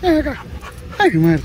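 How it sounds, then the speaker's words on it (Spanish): A dog gives two short whining yelps, close and fairly loud, with someone speaking Spanish between them. "Ese es el perro de aquí"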